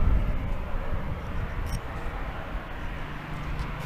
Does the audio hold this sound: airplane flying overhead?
yes